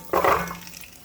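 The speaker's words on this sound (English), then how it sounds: "You hear it sizzling. That means we're doing good." Curry ingredients dumped into a hot pan hit with a sudden loud sizzle that fades quickly into a softer, steady frying hiss within about a second.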